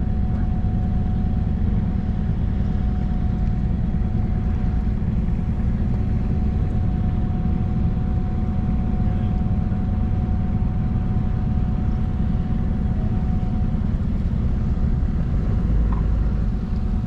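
A boat's engine runs steadily underway after the 2021 season launch near Southwest Harbor, a constant low rumble filling the whole stretch with a faint steady whine above it, no voices.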